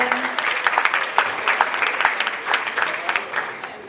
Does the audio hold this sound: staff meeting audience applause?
yes